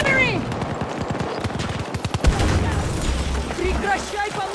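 Rapid machine-gun bursts and single shots crackle through a Battlefield 2042 firefight, dense and close, with a heavier bang near the middle, under voices and game chatter.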